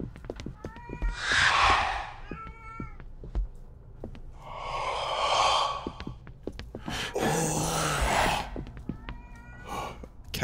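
Several drawn-out cat meows from the video game Erie come one after another, each loud and close, with clicks and small noises between them.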